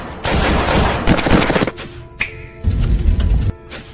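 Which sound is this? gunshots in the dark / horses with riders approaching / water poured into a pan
gunshots in the dark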